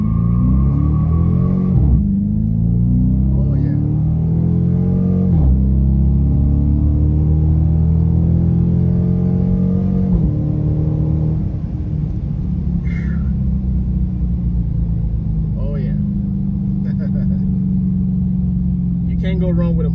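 A 2023 Dodge Charger R/T with a Hemi V8 launches from a standstill, its deep engine rumble rising through the revs and shifting down in pitch at each gear change, close and loud, with a brief voice over it.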